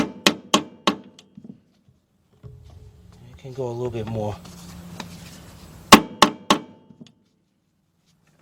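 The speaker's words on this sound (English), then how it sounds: "get a little brass hammer." Sharp, close metallic taps from a small brass hammer come in quick bursts of three to four while working on a Kia/Hyundai V6 timing belt and water pump job, with someone speaking briefly between the strikes.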